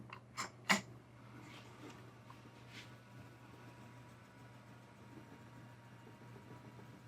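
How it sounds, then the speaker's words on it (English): An Ashford electric spinning wheel motor running at medium speed gives a faint, steady low hum. A few sharp clicks come right at the start, and the hum stays quiet and even after them. "So first I'm going to spin on the Ashford."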